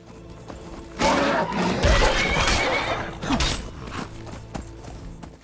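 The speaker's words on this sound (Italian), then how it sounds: "Il cavallo sta correndo contro la volpe." A horse in the game Skyrim lets out a loud, drawn-out whinny that fades into snorting and scattered hoof thuds, with a second shorter neigh rising near the end, all close and without any talk over it.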